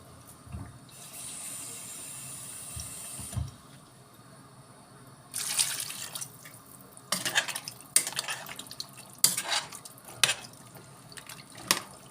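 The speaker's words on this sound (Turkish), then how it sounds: "Suyunu ilave edeyim." Water poured into a pot of kuru fasulye (dried bean stew) comes in several splashy bursts in the second half, with clinks of pots and utensils and a quieter stretch before.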